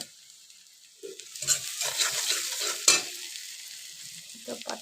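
Chopped jute leaves drop into a hot pan, setting off a sudden sizzle after a quiet start; frying hiss and the scrape of stirring carry on close by, fading slightly toward the end.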